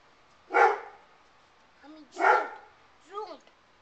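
A small dog gives three short barks spaced about a second apart, close and clear in a quiet room. Brief whimpering yips sound between and after them.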